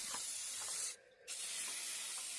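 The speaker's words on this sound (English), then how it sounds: "they do spray better when they're warm" Spray paint can hissing onto soda can earrings, a steady close hiss broken by a brief pause near the middle before spraying resumes.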